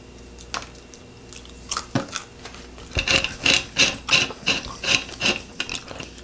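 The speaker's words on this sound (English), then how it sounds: "We got the peanut loaded in the machine, and it just destroys it, and you have a peanut." A Deluxe Nut Cracker Machine, Model #23557, crushes a peanut shell: scattered cracks and clicks open it, then a quick run of loud rhythmic crunching and rasping bursts follows up close.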